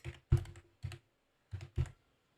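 Keyboard keys tapped in five short bursts while entering text in a Canva design, close and fairly quiet with brief pauses between the clusters of keystrokes.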